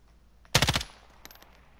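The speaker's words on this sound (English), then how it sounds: "Was trying to shoot a guy on the ATV." Quick burst of automatic gunfire in Call of Duty: Warzone, aimed at a player riding an ATV, a loud rapid rattle of about half a second followed by a few fainter distant shots.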